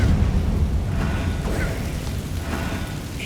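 Fiery explosion of a Confringo spell in Hogwarts Legacy, a rumbling, booming blast that fades into a dense crackling roar, with a brief whooshing flare near the end.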